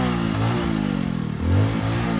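A motorcycle with worn-out clutch plates, stuck in a farm field, runs loud and close, its engine throbbing unevenly before surging in a short rev and dropping back.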